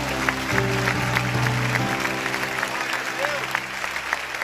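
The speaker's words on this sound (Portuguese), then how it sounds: "dê um aplauso bem forte ao Rei Jesus" A church congregation claps together throughout, a steady wash of applause heard alongside a low sustained tone and a voice.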